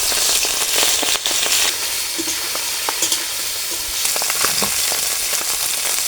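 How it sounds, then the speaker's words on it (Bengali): Mola fish fry in mustard oil in a wok with a loud, constant sizzle, sharp popping crackles scattered through the steady hiss, no speech. "মাছটা ভাজা নিব কাড়াইতে দিলাম সর্ষের তেল"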